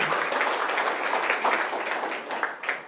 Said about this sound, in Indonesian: Tepuk tanganmu panas sekali, tepuk tangan yang keras.